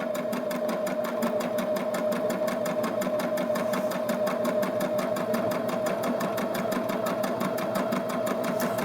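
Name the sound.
Baby Lock Jazz II sewing machine stitching decorative stitches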